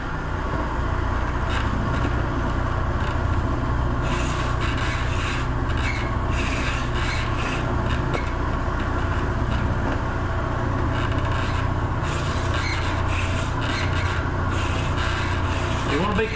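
A knife scrapes flesh from a deer cape being prepared for taxidermy, making a continuous, close, rough rasping under steady background noise.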